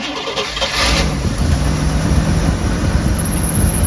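A car engine cranks and catches, then settles into a steady, loud idle that carries on to the end.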